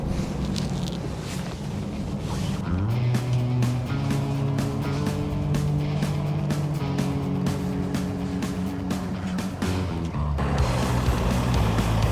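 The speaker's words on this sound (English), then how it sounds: "we have to get the truck around first" A Volvo timber truck in Finland maneuvers to turn around, its engine a steady low drone that climbs in pitch and holds at higher revs, loud and continuous with some wind noise throughout.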